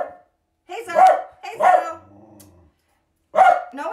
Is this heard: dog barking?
yes